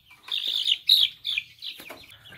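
Young chickens sick with a cold and green-diarrhea cholera give a series of about five high, thin, strained chirps, close and separated by short pauses, with no other sound around them.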